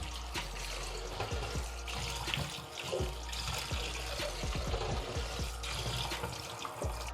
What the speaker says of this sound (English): So I'm done washing our yam.